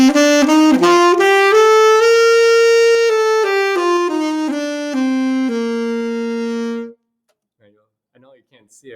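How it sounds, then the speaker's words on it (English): A metal saxophone plays a short melodic phrase of sustained, bright notes, loud and close, holding the last long note before stopping. Near silence follows. "So that's a saxophone sound."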